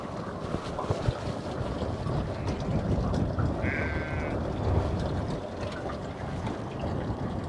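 Liquid feed pours into a sheep feeder outdoors, a continuous rushing, splashing stream with heavy wind buffeting the microphone and no talking.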